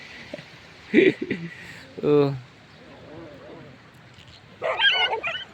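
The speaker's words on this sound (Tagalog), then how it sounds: "daming aso" Several dogs bark and yip in short bursts at a moderate distance, with a person talking between the barks.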